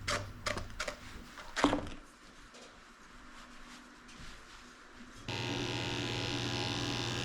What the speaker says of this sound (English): Shaving her out a potty path with a tin blade.